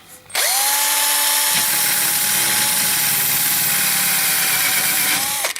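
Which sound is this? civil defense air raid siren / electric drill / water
electric drill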